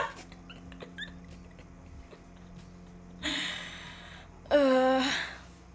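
A dog gives a short, breathy whimper that rises into a high, drawn-out whine near the end, with no one speaking.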